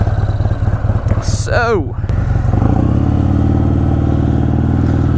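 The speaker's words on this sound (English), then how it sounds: "I will say this bike sounds good." Harley-Davidson Softail Sport Glide Stage II engine rumbles loud and close on a ride, a deep steady throb with a brief rising rev before settling into a strong continuous drone, with a voice speaking briefly at the start.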